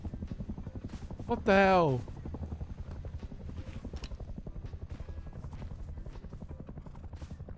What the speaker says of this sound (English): Chopper, go away.